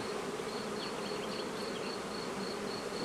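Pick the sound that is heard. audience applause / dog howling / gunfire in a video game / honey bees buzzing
honey bees buzzing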